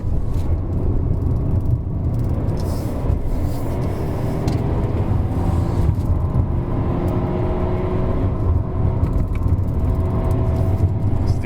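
Proton X70 engine steadily droning and pulling as it downshifts on the Genting hillclimb, a continuous loud cabin rumble with rising and falling engine tones throughout.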